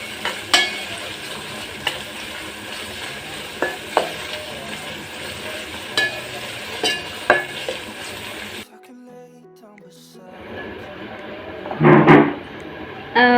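Onions sizzle and fry in a pot for pilau, a steady crackling hiss broken by stirring scrapes and clanks; the sizzle drops out briefly near the end before a loud burst of sizzling returns.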